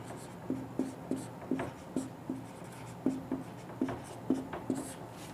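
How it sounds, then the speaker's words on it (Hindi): Pen or marker strokes on a classroom board during a Hindi-language lecture, a steady series of short scratchy scrapes in an even rhythm, close and moderately loud with no talking. "तो मैं बोर्ड पे लिख रहा हूँ"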